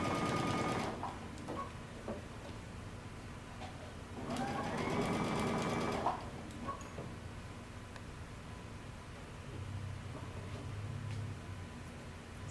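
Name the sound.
sewing machine stitching coat lining seam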